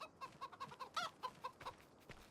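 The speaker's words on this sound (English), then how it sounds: "Chickens are doing well." Chickens cluck on a farm in a farming sim game, a run of short, quiet clucks about twice a second with a louder squawk midway, no talk over them.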